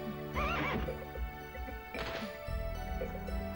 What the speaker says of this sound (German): Das soll ein Pferd sein.